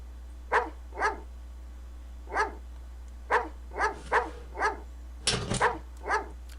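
A dog barks in a spooky indoor setting: about ten distinct barks in an irregular rhythm, fairly close and moderately loud, with a steady low hum underneath and no talking.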